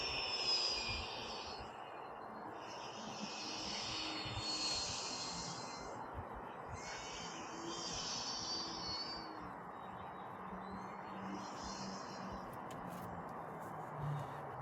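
E-Flite Air Tractor RC model airplane flying overhead outdoors, a steady buzzing electric motor drone that swells and fades as it passes, with faint wind noise throughout.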